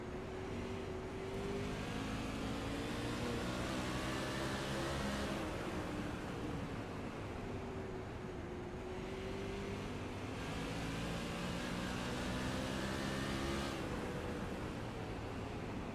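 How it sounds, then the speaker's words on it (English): Silver Crown race car engine held on throttle in the iRacing video game, a steady droning roar with layered harmonic whine that rises and falls gently, continuous and loud with no talk. "Never really gets that car all the way opened up on the throttle."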